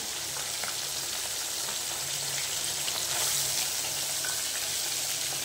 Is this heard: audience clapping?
no